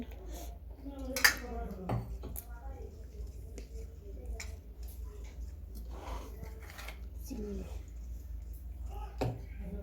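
A yeast mixture is stirred in a bowl with a spoon, giving scattered faint clinks and scrapes under soft background voices in a home kitchen.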